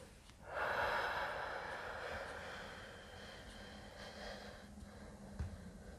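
A slow, deep inhalation during a gentle stretching routine for multiple sclerosis, a breathy rush swelling in near the mic and then tapering off gradually as a quiet airy hiss.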